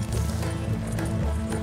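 Horses pulling a wagon in the Red Dead Redemption 2 video game, with a steady clip-clop of hooves and a low rumble of rolling wheels running continuously and fairly loud throughout.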